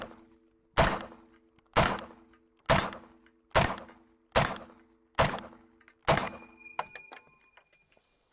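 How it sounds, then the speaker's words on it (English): An M1 Garand rifle fired repeatedly, seven evenly spaced loud shots about a second apart, followed by the bright metallic ping of the ejected clip and a few clinks. "If you've ever liked the sound of the M1 ping"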